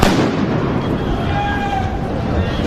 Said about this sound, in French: Il y a des grenades de désencerclement là qui sont utilisées là.